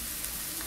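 Kale sizzles steadily in a hot pan on the stove as it goes in to be sautéed, a dense continuous hiss with no voices over it.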